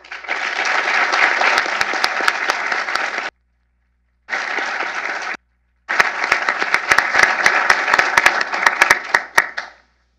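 An audience applauds to welcome a speaker at a talk on libertarianism and conservatism. A dense round of clapping is broken by two short gaps of silence, then resumes strongly before fading out.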